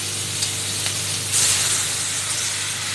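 Water poured into a hot pan of olive chutney sets off a steady, soft sizzle and hiss, with a brief louder burst of steam partway through and no talking.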